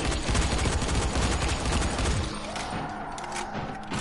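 Dense, rapid gunfire rattles out as a loud continuous fusillade of overlapping shots, then thins slightly and grows less intense in the final second and a half.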